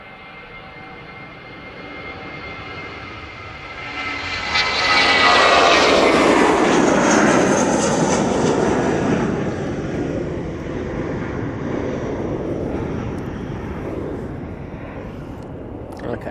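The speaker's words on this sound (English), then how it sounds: "At 330, just touching down and rolling out. It is the Aer Lingus 3." An Aer Lingus Airbus A330 touches down and rolls out at Manchester Airport, engine noise building to a loud roaring rush of reverse thrust, then settling into a steady fading rumble.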